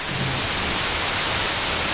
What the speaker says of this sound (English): that's the rain coming off it there